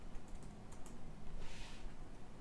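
Computer keys are pressed in quick, light clicks on a keyboard while caps lock and letter keys act as cursor controls, a soft scattered tapping under a steady hiss of background noise.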